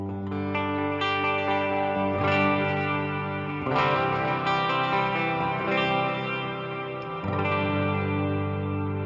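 Electric guitar run through a Fractal AX8 with delay and reverb, sustained chords with long echoing, reverberant tails and chorus-like shimmer, played alone and loud, with a few strummed changes.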